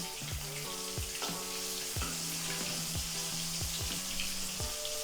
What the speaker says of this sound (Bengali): আমরা উইংসগুলোকে মিডিয়াম হিটে এবং ডুবো তেলে ভেজেছি